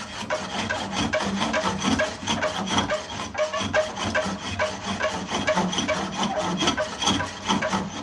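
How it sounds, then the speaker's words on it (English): On a spring pole lathe, a tool held bevel up scrapes and smooths a spinning wooden workpiece. It makes a rhythmic rasping rub that pulses back and forth with each stroke of the pole, steady and close throughout. "I have the bevel up. I'm just barely scraping it"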